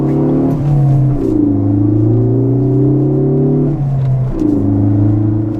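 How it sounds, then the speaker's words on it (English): A 2016 Ford Focus ST fitted with a Ford Racing sport exhaust drones loudly from inside the cabin, its engine note climbing through gear pulls with brief dips between shifts, a deep steady rumble underneath. "the exhaust is a lot more prominent"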